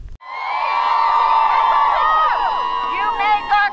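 A crowd cheers and whoops loudly and continuously at an outdoor rally after a speech by a state representative, with shouting voices, children among them, rising and falling over nearly four seconds.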